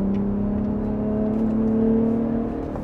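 A 2021 third-generation Ford Raptor 37 in Baja drive mode gives a steady, droning exhaust note from the road, continuous and fairly loud with no talk over it.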